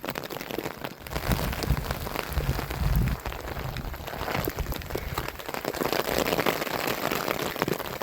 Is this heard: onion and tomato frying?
no